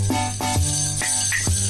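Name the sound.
omnichord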